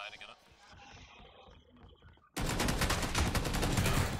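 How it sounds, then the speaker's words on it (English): Shotgun fire in the battle royale game PUBG, a sudden loud burst of rapid gunfire erupting midway after quieter game sounds and talk, then continuing densely to the end. "It's a shotgun."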